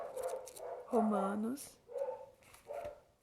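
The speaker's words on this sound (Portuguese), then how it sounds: "Não sei se dá pra ouvir o cachorro latindo no fundo" A dog barks several times in short bursts, including a higher whining yelp, in the background of an indoor room while a person talks close by.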